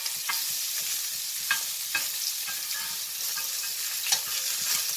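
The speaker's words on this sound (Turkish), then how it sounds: "Bunu da kızartalım." Meatballs sizzle and crackle steadily in a hot pan, with occasional sharper pops and stirring scrapes, no voices.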